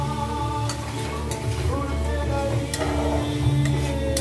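Prawns go into a pan of frying masala, bringing a continuous close sizzle with scattered small clicks and stirring knocks, a low hum running underneath and no speech.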